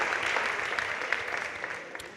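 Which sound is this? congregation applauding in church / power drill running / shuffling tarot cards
congregation applauding in church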